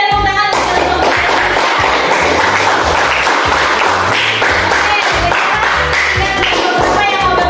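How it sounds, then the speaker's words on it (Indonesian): Classroom of students clapping for a student group during a religious studies lesson, a dense, loud, continuous burst of applause that fills the whole stretch with no pauses. "Kasih tepuk tangan untuk kelompok 3."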